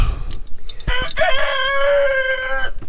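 A rooster lets out a loud, close crow, rising then holding a long drawn-out note, with some brief clucking and scuffling before it.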